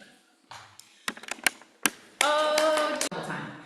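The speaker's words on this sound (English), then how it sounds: "it's simple and it requires clapping, even by the one that is being honored" Members of a congregation clap their hands along to a birthday song, starting with a few scattered claps, then a dense, steady burst of group clapping with faint voices mixed in.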